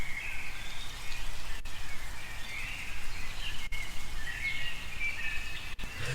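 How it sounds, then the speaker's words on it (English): Field recording of an outdoor ambience with a flowing river and birds, a constant rushing hiss of water with faint chirps and calls scattered over it. "adding a bit of this like nice texture with the river and the birds in the background"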